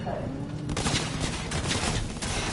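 Gunfire in the video game Cyberpunk 2077 comes as dense, overlapping bursts of shots, loud and continuous throughout the short stretch.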